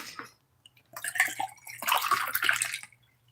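Liquid glugging and splashing as it is poured from a bottle, two bursts of pouring close up, alone without talk.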